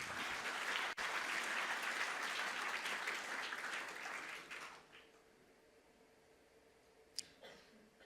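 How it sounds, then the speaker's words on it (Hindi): Loud, dense applause from an audience at an Indian Vijay Diwas event honouring a Param Vir Chakra recipient, sustained for about four and a half seconds before tapering off into quiet room noise with a couple of faint knocks. "इनके लिए भी जोरदार तालियां।"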